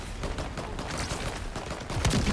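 A steady burst of gunfire in the shooter game Shatterline, dense and fairly loud, growing heavier toward the end.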